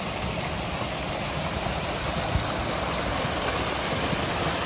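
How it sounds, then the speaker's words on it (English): Stream water rushes in a continuous, even wash of broadband noise, steady and fairly close, with no voices over it. "Water's definitely still rushing"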